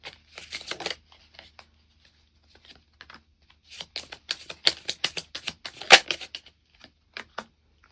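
Tarot cards are shuffled and drawn in quick, crisp bursts of riffling and slapping, with brief pauses between flurries and no talk.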